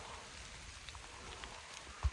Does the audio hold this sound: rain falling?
yes